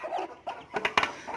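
A hen sitting on hatching chicks gives short, close clucking calls in a quick uneven series. Brief pauses separate the bursts.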